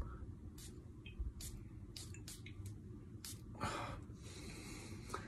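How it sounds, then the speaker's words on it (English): Several short bursts of perfume spray hiss (Zaharoff Signature Noir), one after another, over a low background rumble with a few soft breathy sounds. "Let's spray this right now."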